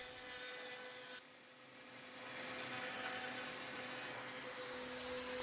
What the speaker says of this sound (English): This particular plank gave me 8 shelves that I can now shape with the router.